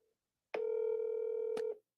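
A single steady telephone tone, likely a DTMF keypad tone, holds for about a second, loud and alone, with a brief click at its end.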